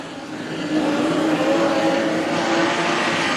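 Modified sedan race cars at Carina Speedway in Brisbane power down the straightaway during a classic final, a loud engine roar that swells after a quieter start, with a rising whining tone and no voices over it.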